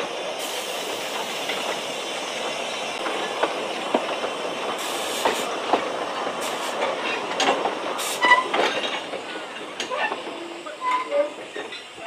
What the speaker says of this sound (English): as Peter Pan and Jenny return to the Pages Park station after the first round trip of the day.